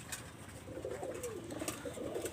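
Teddy Golden pigeons coo softly nearby, a few low throaty calls rising and falling over a light background hum, with no one speaking.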